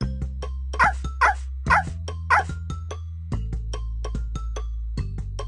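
Four short cartoonish puppy barks in quick succession over bouncy music in a Dora the Explorer game, followed by music alone.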